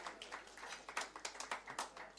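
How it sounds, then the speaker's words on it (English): Hand clapping from an audience acknowledging someone, a sparse run of separate claps in a fairly steady rhythm, quiet and somewhat distant. "please just give him a hand clap."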